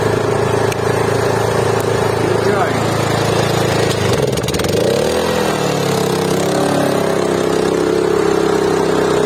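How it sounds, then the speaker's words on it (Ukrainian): A Daewoo DAIG 3000S inverter generator running in eco mode, giving a steady, close engine drone whose pitch dips and then settles partway through. "працює у нас зараз інверторний генератор DEO 3000S у своєму економному режимі"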